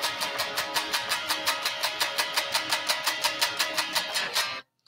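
Electric guitar palm-muted bar chord at the fifth position, strummed in a fast even rhythm of about twenty short chugging strokes that stop abruptly, close and clear with no voice.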